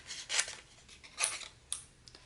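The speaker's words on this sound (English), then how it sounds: "I'm going to use this paper here to test the scissors out" Erin Condren scissors snip through test paper in three crisp, quick cuts, spaced irregularly and heard close and clear in an otherwise quiet room.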